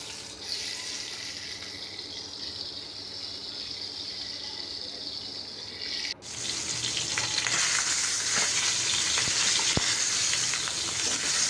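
Fish fries in a frying pan as a steady hiss, which jumps to a louder, brighter crackling sizzle partway through and stays close and continuous.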